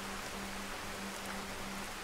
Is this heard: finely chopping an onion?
no